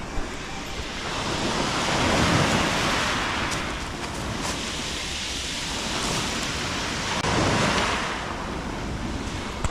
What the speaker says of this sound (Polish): I teraz Wam pokażę ten, te morze, bo naprawdę jest piękne